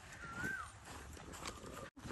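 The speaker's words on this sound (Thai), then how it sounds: "ทางขวาจะมีโรงเลี้ยงม้านะครับโรงเลี้ยงม้าอยู่ทางขวา" Horses at a stable beside a golf course, heard in a steady, fairly loud stretch of broadband outdoor noise with a short gap near the end.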